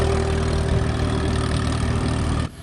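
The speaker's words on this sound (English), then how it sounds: "Hardman uses a tractor to plow through the bouncing bushes" Steady low rumble of a tractor engine running continuously at close range while clearing tumbleweeds, cutting off abruptly near the end.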